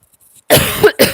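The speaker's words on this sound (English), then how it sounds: "Sorry, y'all, I didn't mean to cough in your ear." A single sharp cough, close and fairly loud, followed by a shorter second cough after a brief pause.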